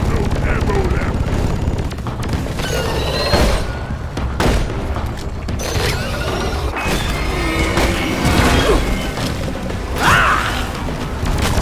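Rapid weapon fire from dwarven miners in the co-op video game Deep Rock Galactic, loud bursts and booms stacked over constant game effects and creature noise throughout, with brief in-game voice lines mixed in.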